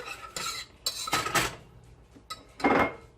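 Butter and flour for mac and cheese worked in a pot with a whisk, giving irregular metallic clatter and scraping bursts against the pot, close up and with no talk.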